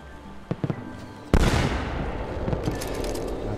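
Gunfire in the video game Assassin's Creed 2: a sharp loud shot bursts out after a few soft clicks and leaves a noisy rumbling tail, with a few lighter pops following.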